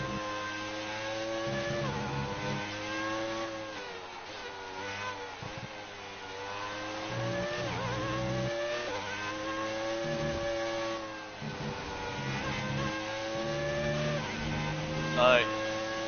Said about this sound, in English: Maximum revs, maximum engine power deployed.